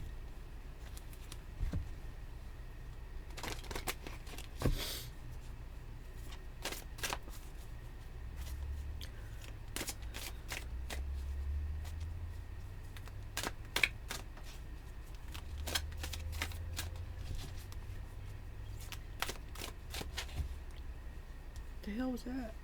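A deck of cards is shuffled repeatedly during a tarot-style reading, giving soft riffling and sharp slapping snaps over a steady low hum, with occasional quiet handling sounds in between.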